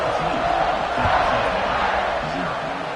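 A large football stadium crowd at a Notre Dame game roars in a steady, dense wash of cheering just before the kickoff, with voices audible underneath.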